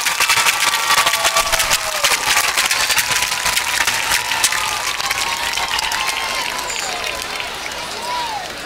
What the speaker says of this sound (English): give a round of applause for the 2017 Homecoming Queen, Amaya Woods, and her crew.